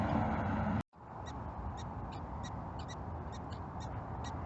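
Prairie dogs chirp in a series of short, evenly spaced calls at a distance, set against a steady rumble of truck traffic in an open outdoor setting.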